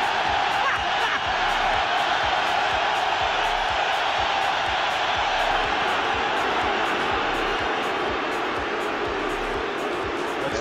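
Rowdy Detroit Lions fans fill a stadium with a loud, sustained roar of crowd noise that holds steady throughout, with talking mixed in.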